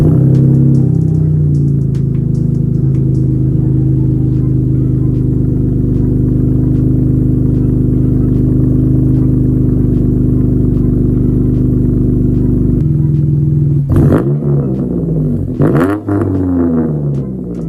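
Supercharged Dodge 3.6 V6 with straight-through Vibrant ultra quiet resonators, giving a steady, loud low exhaust drone at idle, then short revs blipping near the end.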